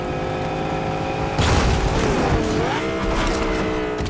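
A car in Fortnite burns its nitro boost, its engine droning steadily before a loud whooshing surge of boost and tire screech swells in, with a rising whine as it speeds off.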